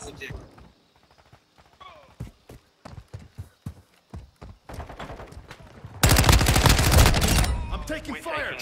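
Rapid gunfire in Call of Duty multiplayer, sharp shots spaced through the first half, then a loud sustained burst of fire near the end, with a player's voice talking over parts of it.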